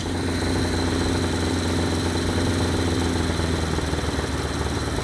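A vintage Honda CB350F four-cylinder motorcycle engine idles steadily up close during a carburetor sync, a constant loud purring rumble with slight shifts in engine speed.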